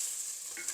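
Curry leaves, green chillies and onion fry in a pan for a baby jackfruit masala curry, a brief steady sizzle with a faint scrape of stirring near the end.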